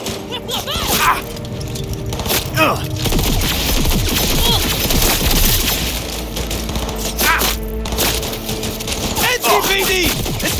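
A chaotic shootout in Cyberpunk 2077, bursts of gunfire cracking in clusters amid shouting voices and combat noise, loud and close throughout.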